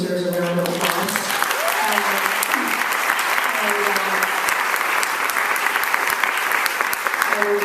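A crowd at a Chicago film screening gives sustained, loud applause for the film's editor, with dense clapping throughout and voices briefly audible at the start.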